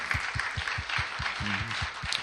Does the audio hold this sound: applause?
yes